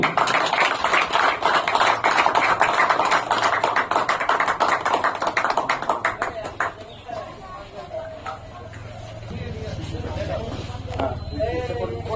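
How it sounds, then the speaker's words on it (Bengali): A loud round of applause fills a crowded award ceremony at a club felicitation event, dense and continuous for several seconds before fading as a voice begins speaking over a background murmur. "একটা জোরে হাততালি"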